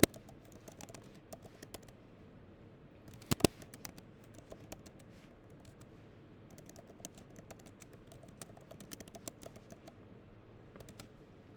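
Quiet, steady tapping of computer keys in irregular bursts, close and soft, with one louder cluster of clicks partway through.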